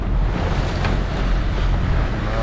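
Atlantic Ocean waves where the Cantabrian Sea meets the open Atlantic off the Bay of Biscay, a continuous heavy roar of surf and rushing water with wind buffeting the microphone throughout, loud and unbroken.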